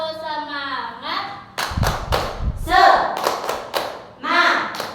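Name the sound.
children doing a rhythmic spirit clap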